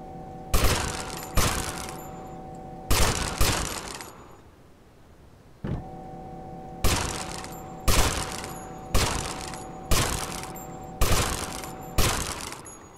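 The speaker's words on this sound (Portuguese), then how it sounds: "Tentando errar pouco tiro aqui" Gunfire in the video game GTA Vice City Stories comes as sharp, loud shots in a steady series of single and double bursts, with a short quiet gap partway through.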